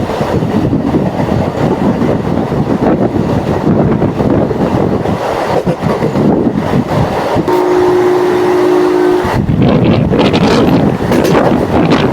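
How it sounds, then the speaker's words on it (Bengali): A Bishnupur–Adra MEMU passenger train runs along with a loud, continuous rumble and wind buffeting close to the microphone, and a brief steady horn tone sounds partway through. "চলো আমাদের ট্রেনের সময় হয়ে গেছে, এখন ট্রেনে উঠি।"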